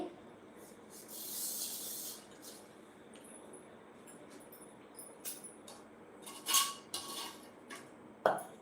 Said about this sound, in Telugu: ఇట్లా గిన్నెలు తోముతూ మీతో మాట్లాడదామని చెప్పేసి అయితే లైవ్ స్టార్ట్ చేశానండి